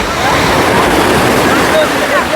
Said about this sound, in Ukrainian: Хвилі, друзі, хвилі розпочинаються.